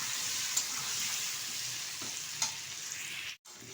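Potatoes and yam frying in oil for a Bengali katla fish curry, a loud continuous hiss of sizzling with a couple of brief spoon clicks, heard alone.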